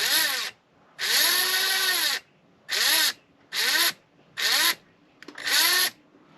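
An RC car's electric motor runs on a 3S battery, whining up and down in six repeated bursts of high-pitched spinning, each rising and falling in pitch, close by with short silent gaps between them.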